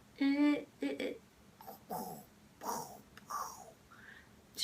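A pet dog close by gives a few high, whiny whimpers, then a series of soft, breathy snorts and sniffs in a quiet room.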